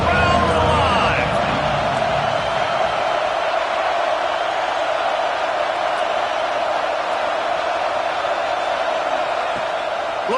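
Football stadium crowd roaring steadily on a third-down red zone play in a college game, a dense, continuous wall of cheering and whoops that stays loud throughout.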